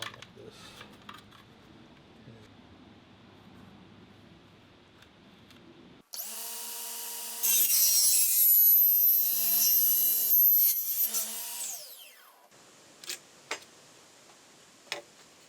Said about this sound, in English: you can bring the blade down and make sure you get a nice clean cut